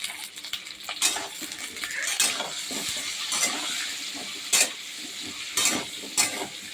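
Steady sizzling in a hot pan as turmeric fries, broken by sharp scrapes and clinks of a utensil stirring against metal several times.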